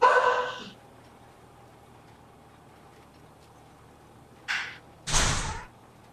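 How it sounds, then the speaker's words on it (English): An indoor dog barks a few times: one sharp bark at the start, then a short pause followed by two more loud barks close by, with a quiet room hum between. "ignore the barking dog"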